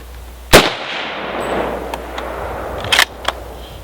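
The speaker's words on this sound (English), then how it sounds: "these .6s have a considerable concussion and blast, Bob." A single sharp, loud .30-06 rifle shot from an M1917 Enfield cracks out, followed by a reverberating tail and a distant clang as a steel gong breaks. Smaller clicks and knocks follow, with no speech.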